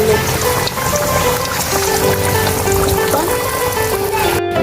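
Potato pakoras frying in hot oil, being fried a second time after cutting to crisp them, giving a loud, dense, steady crackling sizzle that runs throughout with no talking.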